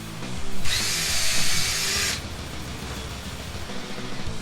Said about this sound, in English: Then I'll hit it with this 1/4 inch bit.